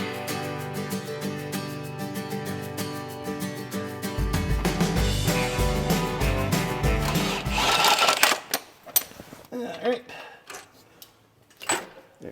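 A power tool undoing bolts on a Peterbilt 359 truck during restoration, with dense mechanical rattling and whirring in several bursts, loud and close, while people talk near the end.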